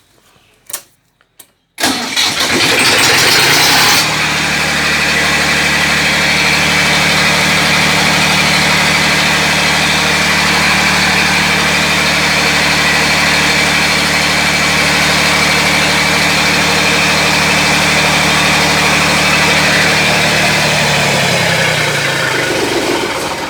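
After a few faint clicks, a generator engine catches and starts, then settles into a loud, steady running drone that holds unbroken to the end.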